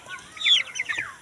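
Young chickens, a flock of about twenty 45-day-old birds, cluck and chirp in a quick run of bright, overlapping calls that rise and fall over a second, fairly close with no talking.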